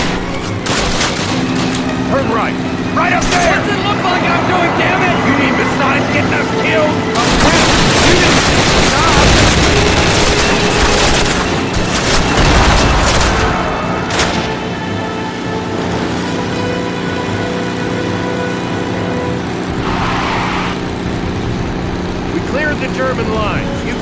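A vehicle races at speed in the Call of Duty video game, its loud engine roar mixed with bursts of gunfire and game effects, while voices shout over the action.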